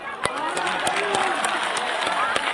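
A crowd at a political rally in Dhekiajuli clapping together, a dense run of hand claps with a few sharper claps standing out over a steady murmur of voices.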